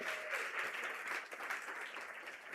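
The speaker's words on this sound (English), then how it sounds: "Can we give Kanya another round of applause?" Soft, steady clapping from an audience at a business programme launch, fairly distant and even, with no voices over it.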